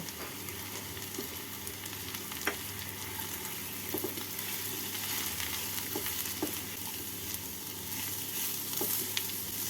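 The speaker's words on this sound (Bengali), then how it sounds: "এবার এর মধ্যে দিয়ে দিচ্ছি গাজর কুচি গাজর কুচিটাকে দিয়ে নাড়াচাড়া করে নেব" Chopped carrot and onions fry in a pan, a steady close sizzle running throughout with occasional scraping clicks of a spatula stirring through the vegetables.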